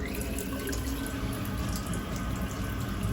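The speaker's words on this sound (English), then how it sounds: "So open the hot tap." Hot water tap opened by a jobbing plumber, giving a steady, even rush of running water that carries on without a break throughout, close by with no talk over it.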